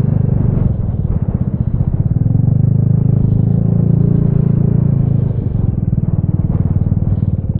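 Riding a Vespa GTS300 scooter gives a continuous close rumble of engine and wind noise that swells and eases gently throughout, with no one speaking.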